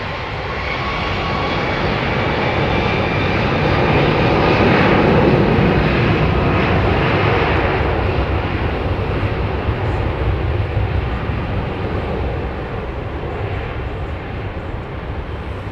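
A jet airliner at London Heathrow Airport roars steadily as it taxis and departs, a loud, sustained engine rumble that swells in the middle and eases slightly toward the end, with no talk.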